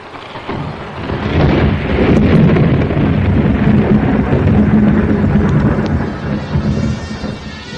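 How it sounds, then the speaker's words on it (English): Heavy thunderstorm with steady rain and deep rolling thunder, loud and continuous throughout, with a gusting wind-like roar swelling and easing; no voices. "The children slept well while the storm raged above them."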